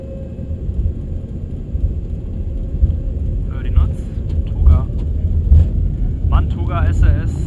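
Condor Airbus A330neo airliner on its takeoff roll down runway 18, a steady low engine roar and rumble filling the cabin throughout, with flight-deck voices and radio calls breaking in over it toward the end.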